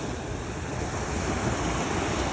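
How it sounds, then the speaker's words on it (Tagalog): Rough, roaring surf churns steadily with heavy wind buffeting the microphone, a loud, continuous wash of breaking sea waves. "malakas ang alon ng dagat"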